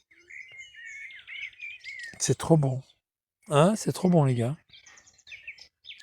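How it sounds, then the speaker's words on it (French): Small birds chirp and tweet outdoors in short bright bursts at the start and end, while someone speaks loudly over them in the middle. "Ah, les oiseaux qui chantent, Vigliano. Ils sont là, regarde. Leur chant est agréable."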